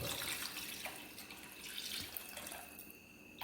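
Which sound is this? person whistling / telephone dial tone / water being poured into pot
water being poured into pot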